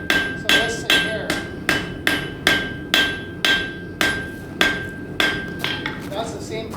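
Blacksmith hammering a round steel bar on an anvil at a forge demonstration, about a dozen evenly spaced sharp metallic blows with ringing decay and a steady tone lingering between strikes, close and loud, with no voices.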